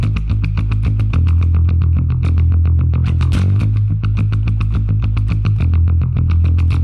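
A Spector bass guitar is played through amp emulation with a touch of reverb, palm-muted picked notes in a tight, steady rhythmic line, punchy and upfront with a slightly distorted edge.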